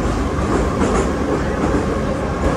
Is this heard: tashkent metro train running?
yes